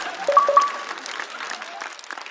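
Audience applause for a stand-up comedian on a comedy show stage, a steady wash of clapping across a full house, fairly even in level with a few louder bursts early on.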